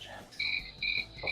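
A brief chirping sound effect of crickets or frogs gives a few faint, repeated trilling calls in quick rhythm, alone with no talk.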